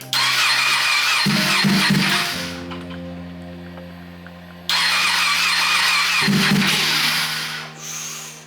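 A crash-damaged Ducati 959 Panigale motorcycle being rebuilt cranks loudly and up close. Its starter turns over in two long attempts, separated by a lower steady hum, as the engine sputters but does not catch.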